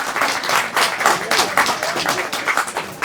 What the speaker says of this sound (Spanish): Aplauso para todos, por favor.